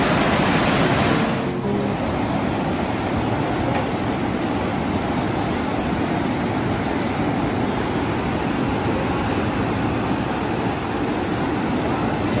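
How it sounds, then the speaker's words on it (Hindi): The Saraswati river roars near Bheem Pul at Mana, a loud, steady torrent of rushing water that fills the whole scene without a break, with a brief extra burst of splashing near the start. "सरस्वती नदी आज भी भीम पुल के पास बहुत ज्यादा शोर करते हुए बहती है।"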